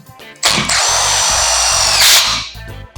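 A power driver sends a self-tapping screw into a pre-drilled hole on a rolling grow bench's trellis, a loud, close, continuous whirring buzz lasting about two seconds that rises slightly in pitch before cutting off.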